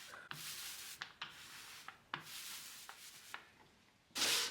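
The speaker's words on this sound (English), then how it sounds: "I use 180 grit sandpaper to smooth out any imperfections" 180 grit sandpaper rubs over dried wood filler on wooden furniture in short, close scratchy strokes separated by brief pauses, ending with a louder, harsher pass.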